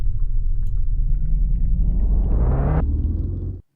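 A looping car engine sound in a game audio setup hums low and steady while its pitch climbs smoothly, then drops sharply and cuts off to silence near the end.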